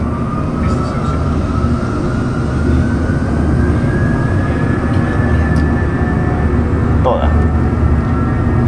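Airbus A320 engine noise in a flight simulator builds to full takeoff power, a loud steady roar with a slowly rising whine that carries throughout.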